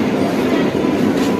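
A train rolls through a station on a trip toward Digha, giving a loud, steady rail rumble and wheel noise that holds evenly throughout with no voices.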